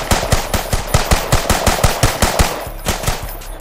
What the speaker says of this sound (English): We got a Glock.